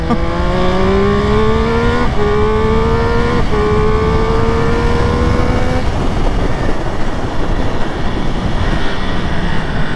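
A Triumph Speed Triple 1200 RS motorcycle laps the Carole circuit, its engine climbing through several quick upshifts before giving way to steady, loud wind and engine roar at speed, with no talking.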